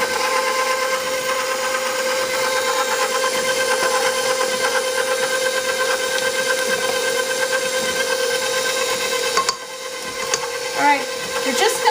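Stand mixer beating banana bread batter, a steady close whirring motor hum with a constant high whine that drops off near the end, with faint clatter after.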